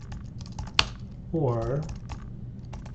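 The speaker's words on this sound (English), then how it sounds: "I've been teaching today, so my typing is bad." Fingers tap a computer keyboard in quick, uneven bursts of keystrokes, and one person's voice speaks briefly over the typing.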